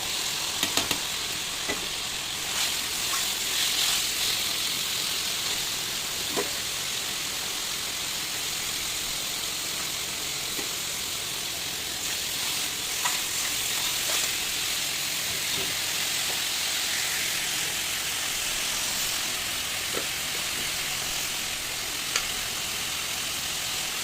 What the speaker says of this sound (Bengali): রসুন বাটাটা হালকা তেলে নেড়ে দিয়ে দেবো পেঁয়াজ, কাঁচা লঙ্কা, টমেটো।